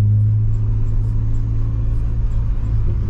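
Deep, steady engine rumble from a Citroen DS4 with a Stage 2 tune, a loud, close exhaust drone that holds even without any rise in revs.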